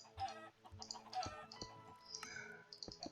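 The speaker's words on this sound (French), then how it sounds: "Donc les poulets ici vont sauter." Chickens in a Minecraft chicken farm cluck and squawk in short, repeated bursts, several birds overlapping nearby, fairly quiet overall, with no talking.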